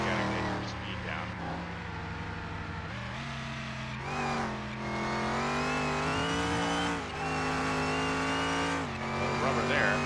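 A 1936 Fiat 500 rounds a hairpin turn during a drag race, its engine droning steadily with pitch shifts and a brief squeal of tires through the corner, while a voice talks over it.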